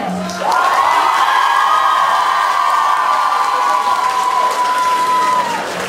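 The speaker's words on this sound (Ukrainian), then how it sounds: "А тепер оплесками!" Audience at a Teachers' Day celebration at a vocational school breaks into loud, sustained applause and cheering, with a long held whoop or shout riding over the dense crowd noise for several seconds.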